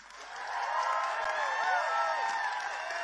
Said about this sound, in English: make some noise for the man.